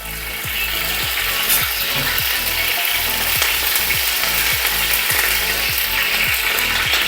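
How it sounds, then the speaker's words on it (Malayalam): Curry leaves crackle and sizzle loudly in hot coconut oil for a sadya-style aviyal, a dense, continuous frying hiss with rapid popping bursts, close and steady throughout. "എണ്ണ ഇപ്പം ചെറുതായിട്ട് ചൂടായിട്ടുണ്ട് അപ്പം നമ്മൾ അതിലേക്ക് കുറച്ച് കരിയേപ്പില അതിലേക്ക് ഇട്ടു"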